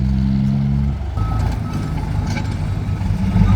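A new, larger tractor being driven, its engine droning loud and close throughout, with a steady beeping tone at the start and a continuous rumbling hum, no talk.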